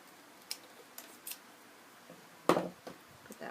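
A few sharp scissor snips trim a paper hinge for a window pocket, quiet isolated clicks with one louder, fuller cut partway through, close and otherwise near silent.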